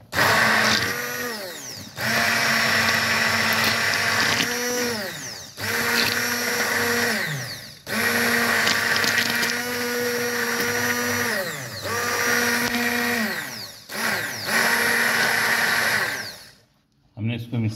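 Electric mixer grinder blending a spice mixture with Kashmiri red chilli powder, a loud close whirring motor in several long bursts, separated by short pauses and changes in pitch as it spins up and down, with no talk.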